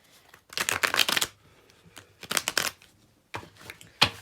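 Tarot cards shuffled in three quick riffling bursts, each a crisp flutter of cards lasting under a second, then a single sharp tap, heard close with no talk.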